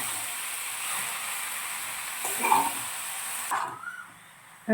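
Bottle gourd with spices is stirred in a pan over a soft background sizzle, with a few scraping and clattering strokes in the middle before the sound drops away near the end. No one speaks.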